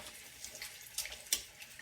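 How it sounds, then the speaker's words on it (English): Tap water runs into a pot of cooked hamburger meat being washed in a kitchen sink, a steady close splashing stream with a few louder sloshes, no talk. "This is washing your hamburger meat to get any extra grease off of it that you might have."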